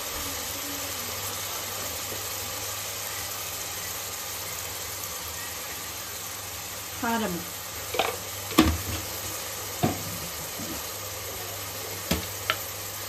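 Onions frying in a pan with salt, chili powder and turmeric for a Rayalaseema thalakaya curry, a steady soft sizzle with several scrapes and knocks of a spoon stirring near the end.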